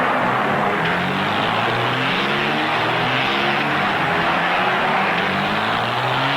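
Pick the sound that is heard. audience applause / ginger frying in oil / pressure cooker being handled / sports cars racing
sports cars racing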